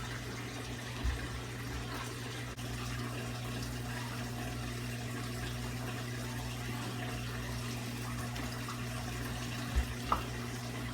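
A Reef Octopus bio pellet reactor running in a crowded saltwater aquarium sump gives a steady low pump hum with a constant wash of water, with a couple of brief soft knocks.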